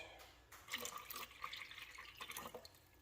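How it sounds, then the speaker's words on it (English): Fresh water being swirled and sloshed inside the reservoir of a Gryphon C40 diamond bandsaw, with soft splashing and trickling in irregular bursts, quiet and close. "add a little bit of fresh water, swirl it around"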